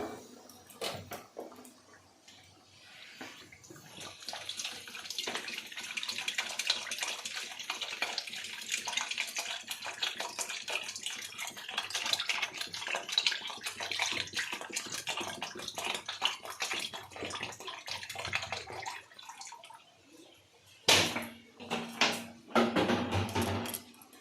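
Water pours into a pot of rice being readied for cooking, a steady broad splashing stream running through most of the stretch, then a few louder, sharper pours and clatters near the end, no talk.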